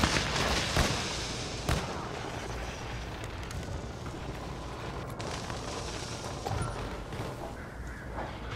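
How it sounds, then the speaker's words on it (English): A thermite grenade goes off during a hardcore Call of Duty: Modern Warfare 3 match, with two sharp bursts early on followed by a steady, roaring crackle and hiss that fills the scene. "Thermite out!"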